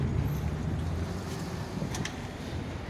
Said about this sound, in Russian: Наверное, вам не слышно, потому что очень ветер сильно дует.